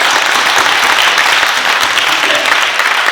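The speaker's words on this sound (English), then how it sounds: "They give the true elders a nice round of applause." A graduation ceremony audience claps loudly and steadily, the dense applause filling the room without pause.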